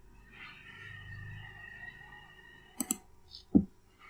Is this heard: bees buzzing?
no